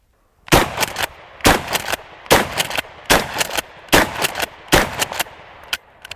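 A Mossberg 590 A1 pump shotgun fires high velocity slugs through a 1x prism sight. Six loud, close shots boom at a steady pace of roughly one every 0.8 seconds, each a sharp blast with a short ringing decay and no talking.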